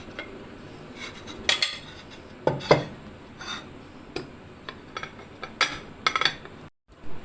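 Sticky rice for a mango sticky rice dish is scraped out onto a plate, giving a series of sharp utensil clinks and scrapes against the dish at an irregular pace, fairly close, with no talking.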